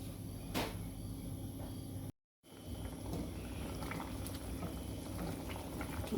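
Pork belly simmering in a pot for red curry with kangkong, a steady dense bubbling hiss that runs throughout, broken by one brief silent cut.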